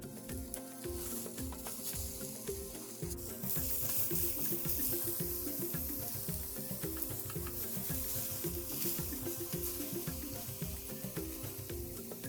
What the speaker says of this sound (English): we're going to fry this and eat this with our oiled rice or angwamo